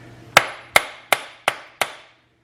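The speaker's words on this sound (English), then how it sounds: "tap that and get it seated" Five sharp metallic hammer taps, evenly spaced and close, drive a CV axle into place on a Chevy Equinox V6, each strike ringing briefly before fading, with no voices.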